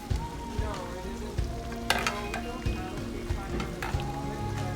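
Italian chicken and cheese frying in a pan, with a steady sizzle underneath and repeated clinks and scrapes of a utensil stirring at a loose rhythm, close and fairly loud, with no voice.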